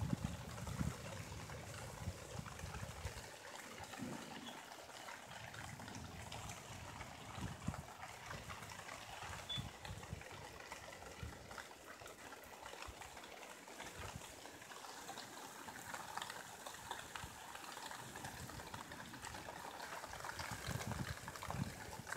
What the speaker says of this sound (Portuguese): Esse lado aqui tá chovendo, ó, do outro lado.